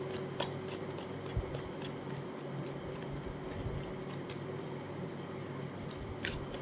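Tarot cards are shuffled quietly, with soft flicking and riffling clicks scattered over a steady low background hum, no voice present.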